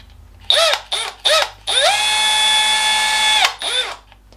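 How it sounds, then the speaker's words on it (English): A power drill drives a screw into a wooden batten, giving three short whirring bursts and then one long steady high whine, followed by a last brief burst, loud and close. "And you screw it into the top."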